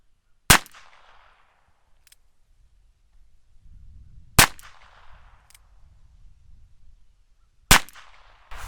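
Three single Ruger Wrangler revolver shots fired at cans at an outdoor range, each a sharp loud crack with a short ringing tail, spaced a few seconds apart with quiet between.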